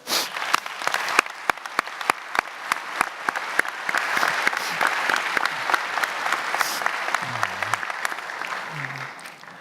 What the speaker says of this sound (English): giving all of them a big round of applause